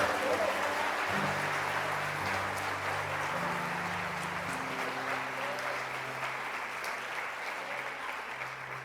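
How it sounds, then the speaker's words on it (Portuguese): Sustained applause from a women's church gathering, a dense even wash of clapping at steady volume throughout, with low tonal music or hum and brief vocal bits underneath. "Se você crê de verdade, dê um aplauso ao Senhor."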